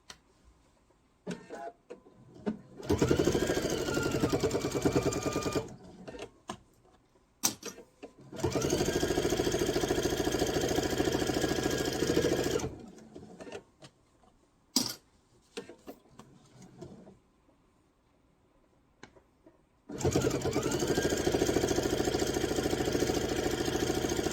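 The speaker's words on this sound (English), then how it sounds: "I'm going to sew past where I began over here." A sewing machine stitches quilt binding in three long steady runs, each a few seconds long, with short quiet pauses and small clicks between them.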